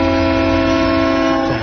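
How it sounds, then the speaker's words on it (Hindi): A train whistle sounds as one long, loud, steady tonal blast that holds throughout and starts to fade at the very end, with no voices. "ट्रेन की सीटी बज के तुम जाओ।"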